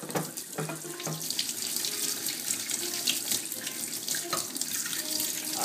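Water runs from a tap to rinse the parts of an Omega 8006 juicer, a steady splashing hiss with small clinks of parts in the sink, close and fairly quiet, with no voices.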